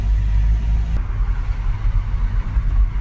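A Citroën C4 Grand Picasso on a test drive with cruise control engaged, giving a steady, close low engine and road rumble throughout with no speech.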